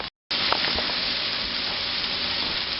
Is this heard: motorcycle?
no